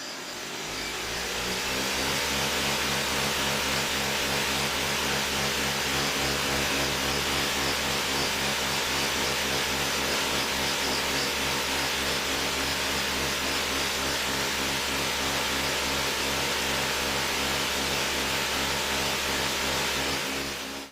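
Electric motors spinning 3D-printed impellers on a homemade hovercraft whir steadily after a brief spin-up, a loud continuous hum with fan-like rushing air that holds constant throughout, with no voices.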